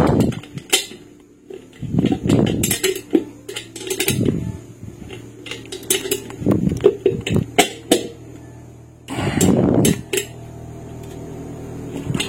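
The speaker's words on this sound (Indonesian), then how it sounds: "bisa juga dengan kunci sok seperti ini untuk menahan ya saat kita mengunci bautnya" A screwdriver and socket wrench tighten bolts on a DIY parabolic 4G modem antenna, with irregular close metallic clinks, rattles and clanks separated by short pauses.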